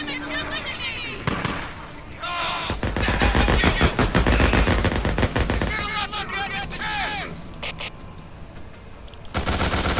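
Gunfire in the zombie survival game Days Gone: rapid bursts of automatic shots crackle loudly through most of the stretch, mixed with game sounds and voices.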